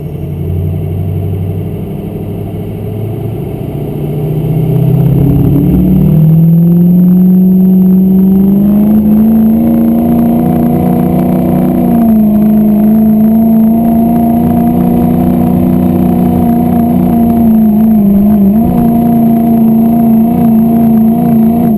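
A Ford 6.0 Powerstroke diesel pickup in a farm stock diesel truck pull, idling low, then surging into a loud, sustained roar that holds steady with slight pitch wavers for about fifteen seconds.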